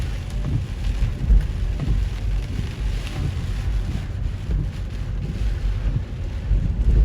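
Heavy rain during a storm with flash flooding around Lake Geneva falls in a steady, loud roar. Gusty wind rumble on the microphone sits underneath throughout.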